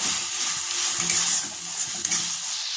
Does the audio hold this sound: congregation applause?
no